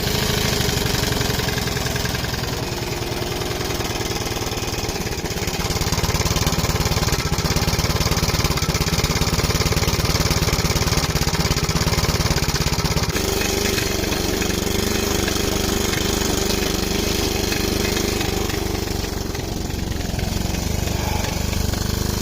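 A go-kart's small engine starts and runs, a loud steady close rattle that rises slightly in pitch after a few seconds and keeps chugging on.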